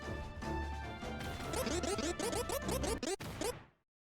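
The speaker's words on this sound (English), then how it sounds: "If I it makes that sound if I try and fire it when it's too hot." A bear-deterrent cannon in a game gives an overheated misfire sound, a rapid run of scratchy, warbling crackles over a steady hum. The sound is loud and close, then cuts off abruptly into silence.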